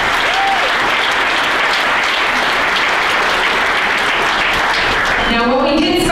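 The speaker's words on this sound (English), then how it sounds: "So a round of applause for all my new benchmarkers." Audience applauding new benchmarkers at the Spark Awards, a loud, dense wash of clapping that holds steady throughout, with a voice beginning to speak over it near the end.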